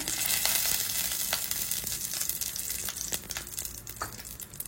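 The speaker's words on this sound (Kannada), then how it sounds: "ನೋಡಿ, ಇದು ಸ್ವಲ್ಪ ಫ್ರೈ ಆಗ್ತಾ ಬಂದಿದೆ." Steady sizzling in a pan as ingredients fry on low flame for jackfruit kheer, with occasional stirring scrapes, moderately close and unbroken without talk.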